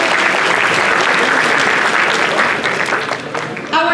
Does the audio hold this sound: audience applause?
yes